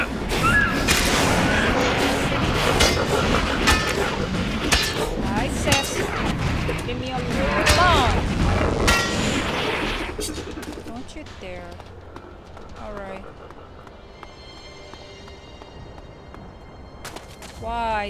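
Shotgun fire in the video game ELEX 2 comes as a dense barrage of loud blasts for about ten seconds, then the shooting fades to quieter ambience with chirping bird-like calls.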